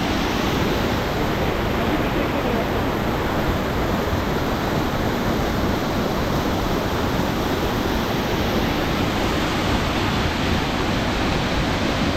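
A loud, continuous roar of a forest waterfall at Kupawade village fills the scene, dense and unbroken rushing noise close by.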